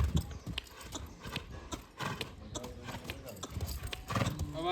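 Horse hooves clip-clop steadily throughout with a possible whinny, recorded outdoors among fairly loud, continuous background noise.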